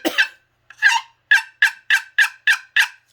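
A turkey hen call box for hunting, mimicking a hen in heat, gives a series of eight sharp, raspy yelps that come faster and more evenly toward the end, loud and close with no talk.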